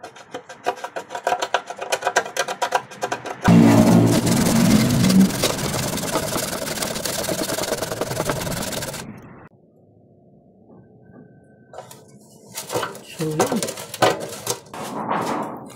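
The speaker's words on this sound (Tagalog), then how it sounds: "Pero lilinisin muna natin. Para matanggal yung mga pintura niya." Paint being cleaned off metal before welding, a loud, harsh grinding rasp lasting several seconds amid intermittent scraping and clatter, with a quieter stretch and a low hum between bursts.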